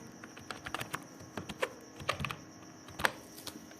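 Quick, light clicks of typing on a computer keyboard, close and fairly quiet, tapping in uneven bursts with short pauses.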